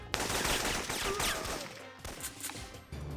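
Rapid gunfire in the Syphon Filter video game crackles in dense, loud bursts, with a short lull before another volley near the end.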